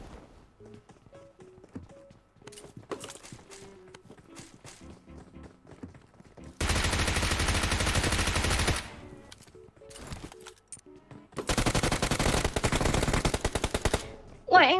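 Automatic gunfire in the mobile video game PUBG Mobile comes in two long, dense bursts of rapid shots. Lighter footstep-like clicks and faint voices fill the quieter stretches between them.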